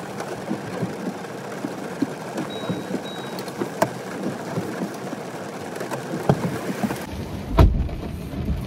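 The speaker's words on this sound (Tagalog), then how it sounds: "Yan, maulan, grabe." Heavy rain pours steadily outside a house by the front gate, a dense broadband wash with occasional louder splashes and a brief closer gust near the end, no talking.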